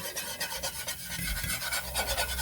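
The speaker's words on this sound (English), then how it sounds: "I'm going to sit here and whisk this and stir it around" Whisk scraping and stirring gravy with onions in a pan, a quick, rhythmic rasping of strokes close by, running steadily without any voices.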